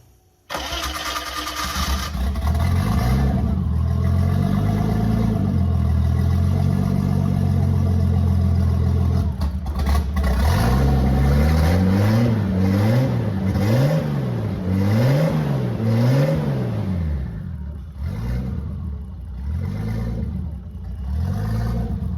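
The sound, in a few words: BMW E30 325 turbo engine starting with open downpipe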